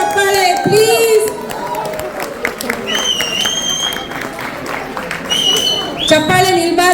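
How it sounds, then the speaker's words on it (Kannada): An audience claps and cheers after a Kannada group dance performance at a retro Ugadi event, with loud voices and shouts rising over scattered applause. "ಜೋರಾದ ಚಪ್ಪಾಳೆ ಪ್ಲೀಸ್"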